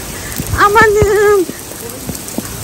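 Rain patters as a steady hiss outdoors, with a few sharper drop taps, while a woman lets out a long drawn exclamation over it.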